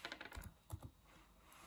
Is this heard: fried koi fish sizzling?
no